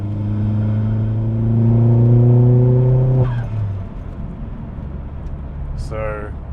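A Vauxhall Astra VXR engine pulls hard as the car accelerates onto a motorway, rising steadily to a loud drone and then cutting back. A brief higher rising sweep follows amid steady road noise.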